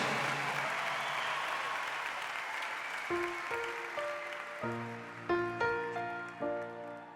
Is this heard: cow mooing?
no